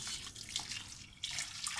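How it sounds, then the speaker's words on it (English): Boiled water poured from a kettle around chicken in a pot for an Indian chicken curry, a continuous splashing stream that briefly dips and then surges again. "I'm going to add in my boiled water"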